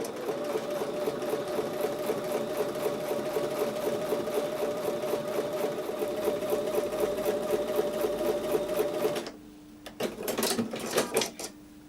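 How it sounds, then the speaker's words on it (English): A sewing machine stitches quilt pieces with a quarter-inch seam in a fast, steady rhythmic patter for about nine seconds, then stops, followed by a few softer mechanical clicks. "take these over to the sewing machine and sew with a 1/4 inch seam"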